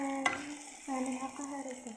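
Tomatoes go into hot oil in a pan for a pasta dish, giving a soft close sizzle with a sharp clack at the start and faint tonal hum under it, with no talk.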